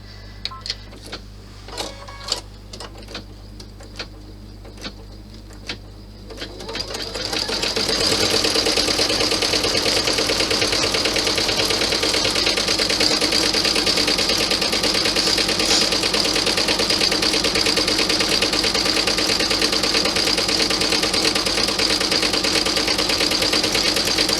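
A sewing machine stitches layers of felt for a clutch bag, starting with a few light clicks and then running in a loud, steady, continuous whir.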